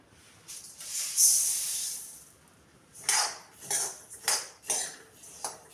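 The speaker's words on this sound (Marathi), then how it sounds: "राहिलेले धणे भाजून घ्यायचे." Coriander seeds dry-roasted in a metal kadai, heard as a series of close metallic scrapes and rattles of seeds tossed and stirred against the pan, with short hissy bursts at an uneven rhythm.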